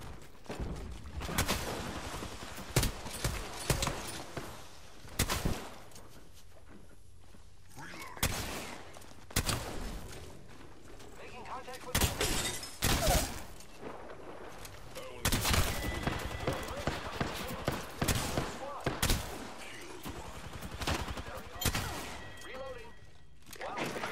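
Video-game gunfire in irregular bursts of sharp shots and rattling volleys, with thuds and brief lulls, loud and close over about twenty-four seconds, while a voice talks intermittently.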